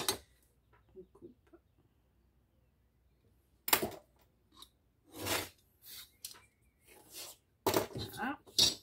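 Scissors cutting through paper for a small scrapbook happy-mail craft, a series of sharp crisp snips in short bursts, close and fairly loud, with quiet gaps between cuts.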